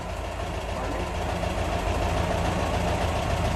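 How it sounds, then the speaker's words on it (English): A 1974 Porsche 914 with its 1.8 L engine runs at a steady idle, a dense, even exhaust drone close by with no change in pitch. "While we have it running, we'll get a little exhaust note"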